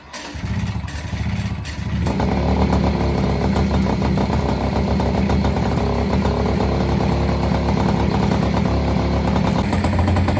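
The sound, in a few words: Peugeot 103 Vogue moped engine first start with Airsal kit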